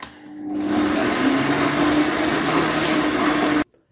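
A kitchen stand mixer whips liquid cream at speed, giving a loud, steady motor whir with a whooshing, churning texture for a few seconds before it abruptly shuts off.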